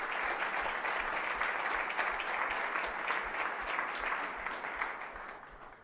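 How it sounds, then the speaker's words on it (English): An audience claps for event sponsors at a startup demo day kickoff, a full steady round of applause that holds for several seconds and then begins to fade toward the end. "Definitely need to give them a round of applause"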